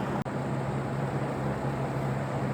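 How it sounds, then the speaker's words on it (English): Fan running steadily for air circulation in a garlic storage area, a constant broadband whooshing hum with a low drone, close and even throughout, alone without talk. "Then I'm sure you can hear the fan in the background."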